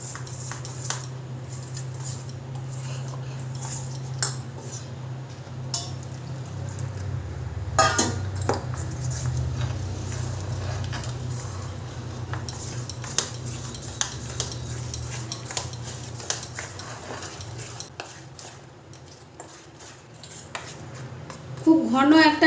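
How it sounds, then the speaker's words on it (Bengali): A thick batter for aloo chop, made from flour with a pinch of baking soda, being stirred while water is added a little at a time, with steady clinking and scraping of a spoon in a bowl, close and continuous. "অল্প অল্প জল দিয়ে একটা ঘন ব্যাটার তৈরি করে নেব।"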